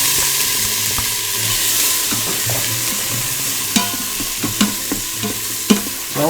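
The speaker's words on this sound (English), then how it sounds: "Start with sauteing our onions here." Onions saute in melted butter inside an Instant Pot, a loud continuous sizzle with occasional sharp clinks and scrapes of stirring toward the end, no voices.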